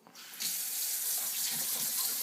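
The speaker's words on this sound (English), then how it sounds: "And this is our new sink with special tap" Water gushes from a pull-out spray tap into a new kitchen sink, a steady close rushing hiss that starts after a brief quiet moment and runs evenly to the end.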